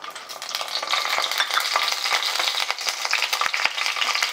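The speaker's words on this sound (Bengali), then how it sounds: "দিয়ে দিচ্ছি গোটা জিরে, এবার দিয়ে দিচ্ছি চেরা কাঁচা লঙ্কা" Whole cumin seeds and slit green chillies frying in hot oil in a pan with bay leaves, giving a loud, steady crackling sizzle with sharp pops and spatters, close up and without talk.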